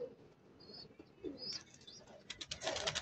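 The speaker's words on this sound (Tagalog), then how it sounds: "Yun na yung ating kalapate." A pigeon coos softly among other small birds chirping and a brief flutter of wings, heard from a short distance outdoors.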